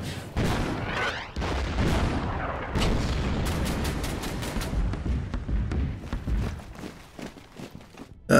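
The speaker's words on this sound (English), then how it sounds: "Here comes the artillery." Booming artillery fire from the wargame Burma Road: Imphal '44, a dense run of heavy blasts and cracks over a rumbling low end, sustained for several seconds and then thinning into sharper scattered reports.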